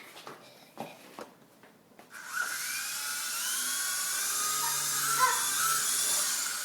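A helicopter flies past, its steady whining drone swelling in after about two seconds of quieter background and holding loud and continuous to the end.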